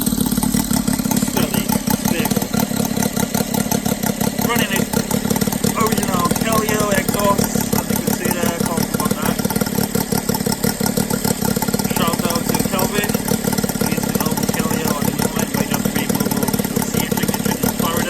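A Saito FA-90 R3 model aircraft engine fitted with an MMM CDI ignition and intake conversion runs steadily at close range, a loud, continuous rapid buzz that holds an even tone throughout.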